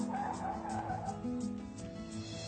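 A car skids with tires squealing in a 2010 Mumbai gangster film scene, a steady loud screech and rumble running through the whole stretch amid tense music.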